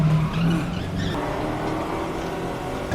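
A gang's car skids and tumbles through a rollover, tires squealing under a loud, steady roar of engine and scraping noise for the whole stretch, with no voices.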